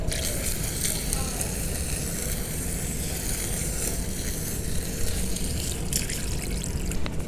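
Water sprays steadily onto a dirty air conditioner evaporator coil being rinsed after a bathroom-cleaner wash, a continuous close hiss that runs unbroken for the whole stretch.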